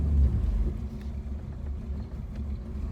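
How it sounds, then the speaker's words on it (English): A 1954 Chevrolet Bel Air street rod engine rumbles low and steady while driving, with a cold engine giving a muffled, uneven burble throughout, heard from inside or near the car. "first drive of Grandpa's hot rod."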